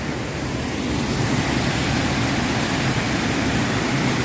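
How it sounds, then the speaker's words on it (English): Water rushing steadily along a big creek at Falling Creek in Florida, a loud, dense, unbroken roar filling the whole stretch with no voices. "Turn into a creek, big creek."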